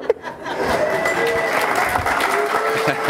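A late-night talk show studio audience breaks into applause, dense clapping with some cheering that rises quickly after a brief quiet start and stays loud and even, with a voice briefly audible underneath.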